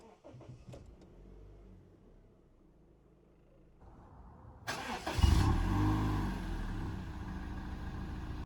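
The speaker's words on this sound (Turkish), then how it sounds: "Şimdi aracımızın içeriden ve dışarıdan bir çalıştırma sesine bakacağız" A Honda Civic Sport 1.8 car starts: a few quiet clicks and a faint hum come first, then the engine cranks and catches with a loud rise before settling into a steady idle rumble.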